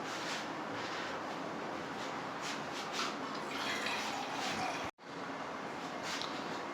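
Water pours from a full mug into a pot of salted beef for Peshawari rosh, a steady splashing rush lasting several seconds, cut off by a short break and then resuming.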